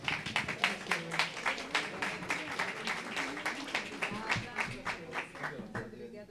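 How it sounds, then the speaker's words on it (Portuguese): A crowd claps steadily for several seconds, a dense patter of applause that fades slightly toward the end, with some voices underneath. "Vamos agradecer a nossa rica mesa com a nossa salva de palmas."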